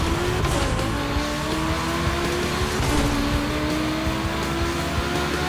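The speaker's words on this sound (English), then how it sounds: "The Quattro takes the lead." Audi Quattro race car in The Crew Motorfest, engine droning loudly and steadily with rising and falling pitch as it accelerates, tires scrubbing underneath, continuous and close with no talk.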